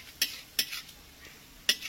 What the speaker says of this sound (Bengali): চটর পটর যখনই হবে তখনই বুঝে যাবে যে ফোড়নটা রেডি হয়ে গেছে